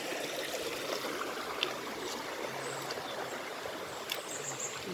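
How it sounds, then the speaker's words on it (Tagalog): A clean river flows in a steady, rushing stream with soft trickles and gurgles throughout, close and continuous, with a few faint clicks and distant sounds over the water. "Punta na dito sa malinis na ilog."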